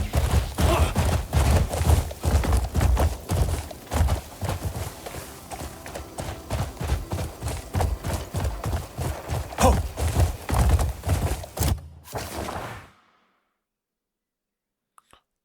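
Horse hooves gallop in fast, rhythmic clip-clop beats in the video game Crimson Desert, loud and close for about twelve seconds before cutting off abruptly into near silence.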